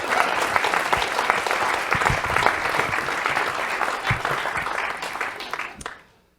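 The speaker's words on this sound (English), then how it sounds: "that deserves a round of applause" A comedy-show audience breaks into loud, steady applause, a dense wash of clapping that holds for several seconds before cutting off abruptly.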